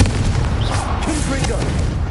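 Confringo fire spell blasts in Hogwarts Legacy, a dense, loud booming crackle sustained throughout with overlapping bursts and rumble, game voice audible underneath.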